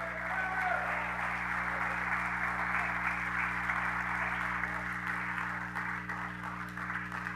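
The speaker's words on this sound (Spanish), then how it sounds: "Dale un aplauso al Señor." A church congregation gives sustained applause during a Spanish-language sermon, a steady dense patter that holds at an even level for the whole stretch, with a low electrical hum running underneath.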